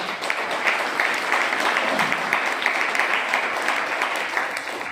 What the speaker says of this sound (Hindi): ताली बजा दो सबके लिए।